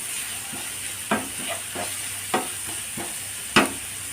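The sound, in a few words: green chillies and curry leaves frying in a pan for cabbage masala roast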